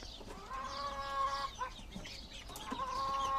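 Chickens on a poultry farm cluck and squawk nearby in a busy, overlapping chorus, with drawn-out calls rising over steady background clucking from the flock.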